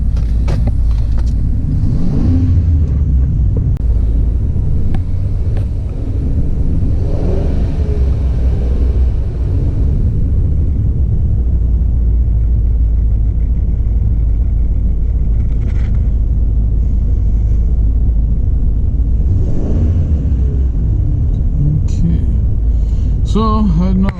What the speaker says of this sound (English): Let's hop back up inside here and listen to the engine.